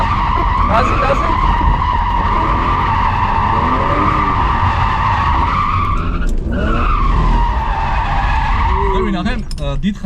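A car drifting with loud, sustained tire squeal and skidding over a roaring, revving engine. The screech shifts in pitch throughout and is briefly broken near the middle.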